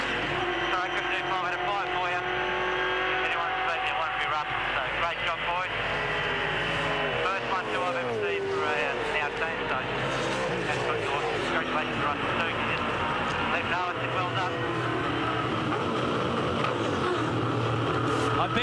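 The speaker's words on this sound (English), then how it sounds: "Stone Brothers go side by side for a victory parade lap" V8 Supercars from Stone Brothers Racing roll side by side on a victory parade lap after a 2003 championship race, engines droning steadily and loud throughout, their revs rising and falling under continuous commentary.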